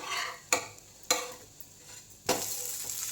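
Pancake of varai (barnyard millet) flipped and frying in a hot pan, with steady close sizzling broken by three sharp scraping, spatula-like knocks against the pan.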